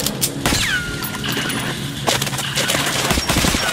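Rapid automatic gunfire bursts in the first-person shooter Metro: Last Light, with loud overlapping volleys and a sharp whizzing sweep early on, set against a dense, noisy game soundscape.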